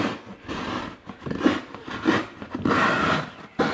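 Serrated, saw-like knife rasping through packing material while wrapping onion and wooden racks for shipping, several scraping strokes in uneven bursts, close and fairly quiet.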